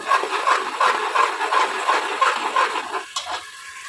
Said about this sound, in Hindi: अब इसको थोड़ा सा 1 मिनट के लिए और भून लूँगी।